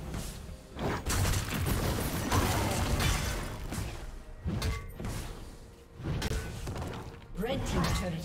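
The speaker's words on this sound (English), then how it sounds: "Red team's turret has been destroyed." A turret being destroyed in League of Legends, with crashing, shattering impacts and thuds over roughly eight seconds amid busy game effects and a voice.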